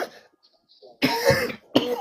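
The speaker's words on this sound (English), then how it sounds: "Excuse me for the coughing here." Several harsh coughs from one person, a brief burst then a longer loud fit around the middle and another sharp cough at the end, close to the mic with quiet pauses between.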